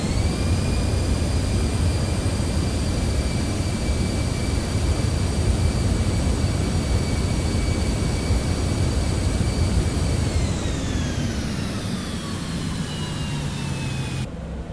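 Jet engine reverse thrust on an airliner after landing in Microsoft Flight Simulator 2024: a loud, sustained roar with steady whining tones that slide downward as the engines spool down near the end.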